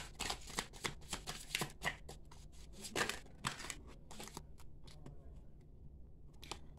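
A tarot deck being shuffled up close, with rapid papery riffles and flicks of cards in quick bursts that thin out toward the end, quiet and without speech.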